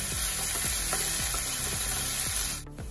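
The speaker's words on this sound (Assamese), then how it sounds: "এইখিনি এতিয়া মই তেলৰ লগত ভালকৈ ভাজি লওঁ যেতিয়ালৈকে আদা নহৰু কেঁচা ভাতটো নাযায়" Ginger-garlic paste fries loudly in hot oil, a steady close sizzle broken by regular scraping strokes of a stirring spoon, cut off sharply near the end.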